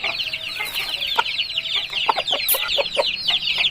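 Aseel rooster clucking, a string of short throaty clucks and calls close by over a bright bed of chirping birds in the background.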